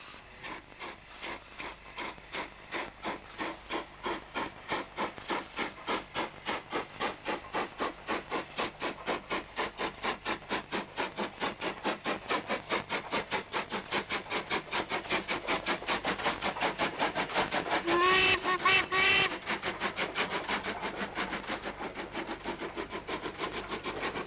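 A double-chimney British steam locomotive glides into a station on a Manchester to Carlisle special, its rapid rhythmic chuffing steady and fairly close, with a brief whistle-like tone and hiss near the end, no voices.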